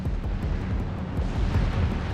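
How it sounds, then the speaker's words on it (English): Missile launch explosion in the video game Armored Core 6, a sustained loud rumbling roar of booming blasts that holds steady across the whole moment. "Missile launch sequence complete, Chief. Ready when you are."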